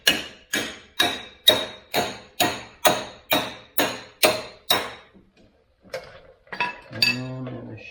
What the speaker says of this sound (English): I am just going to put this in here and hammer.